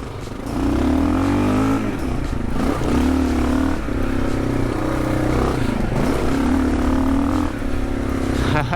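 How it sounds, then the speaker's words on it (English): A Kawasaki KLR motorcycle rides hard off-road through Australian adventure terrain, its engine droning and revving in repeated rising and falling surges with rattling clatter throughout. "The KLR is perfectly suited for this style of riding."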